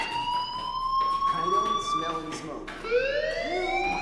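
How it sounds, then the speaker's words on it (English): A school fire alarm in the video game Life is Strange Remastered wails with steady electronic tones that sweep upward, sounding loud and continuous while a voice speaks over it. "do you hear that fire alarm?"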